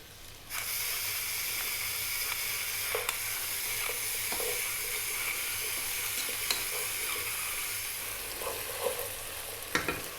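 Onion and spices seasoned with salt and black pepper sizzle steadily in a pan on high heat for a vegan lentil tomato soup, a continuous close hiss broken by occasional scrapes and clicks of stirring.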